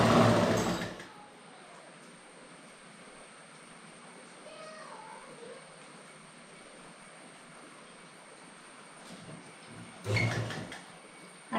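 A sewing machine stitches the hem of a pyjama pant with a low, steady mechanical whir at moderate distance, framed by brief louder handling bumps at the start and near the end.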